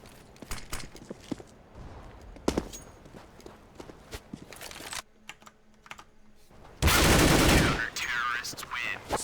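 Counter-Strike gunfire on the Dust 2 map comes as sharp cracking shots in a tournament match, with a loud dense burst near the end, mixed with keyboard clicks and a commentator talking over it.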